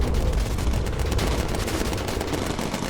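Rapid aircraft machine gun fire from the video game Bomber Crew, a dense continuous rattle of overlapping bursts with booming low end, loud and steady throughout with no talking.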